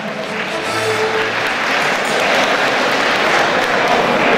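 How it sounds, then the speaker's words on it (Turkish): A banquet crowd gives loud, sustained applause for the orchestra Yıldız, a dense wash of clapping that swells slightly over a few seconds. "İlk önce bir alkış istiyoruz orkestr Yıldız'a."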